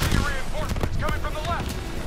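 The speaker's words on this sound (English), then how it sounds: "Oh man, I'm getting shot" Dense gunfire and explosions from the video game Call of Duty: Black Ops 3 pound in loud, continuous bursts with sharp cracks, while someone talks over the top.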